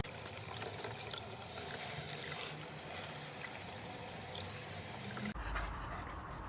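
Water pours in a steady rushing stream into an old broken plastic cooler holding a broken-up brick, then changes to a hollower splash and trickle near the end.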